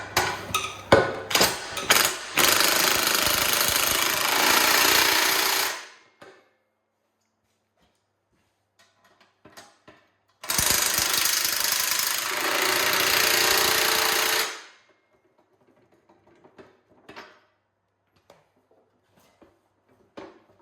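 An impact wrench fastens hardware during an ATV plow setup on a 2020 Arctic Cat Alterra 570, with two loud sustained rattling bursts of several seconds each, preceded by clicks and handling noise, then quiet clatter between.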